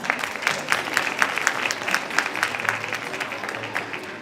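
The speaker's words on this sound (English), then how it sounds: "Let's give them a round of applause." A crowd at an evening aesthetics-clinic gala before a fashion show claps in a sustained round, with many crisp overlapping hand claps forming a full, lively wash that holds steady and eases slightly near the end.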